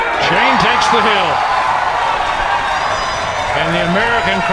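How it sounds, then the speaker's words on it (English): Crowd at a Mosconi Cup pool match cheering and applauding loudly and steadily throughout, with a commentator's voice talking over the noise. "And the American crowd shows some life."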